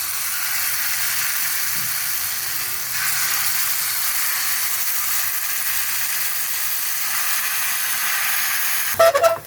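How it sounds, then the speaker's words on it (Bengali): Sprouted mung bean and chickpea pakoras fry in hot oil with a steady, dense sizzle that holds evenly throughout, ending in a brief utensil clatter near the close, with no voices. "আমি এখন তেলটা গরম হয়ে গেছে, এর মধ্যে ছোট ছোট বড়ার মতন দিয়ে দেবো।"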